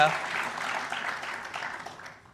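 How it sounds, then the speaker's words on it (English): An audience at a networking conference session claps for a speaker, a brief round of applause that starts strongly and fades out over a couple of seconds, moderately distant. "Everybody give Ashley another round of applause for her ARIN debut."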